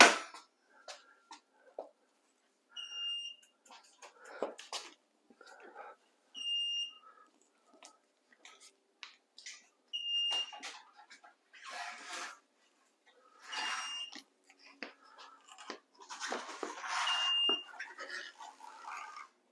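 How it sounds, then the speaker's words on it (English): Repeated short electronic beeps from a Saris powered eBike rack sound at a steady interval, mixed with clanking, rattling and shuffling noises nearby. "this guy's going to continue to beep until we get it back up"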